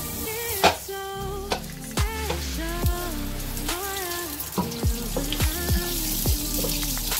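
Onion frying in a pan sputters and pops with bursts of wet crackle and dripping, bubbly sounds, close and fairly loud, with no talking.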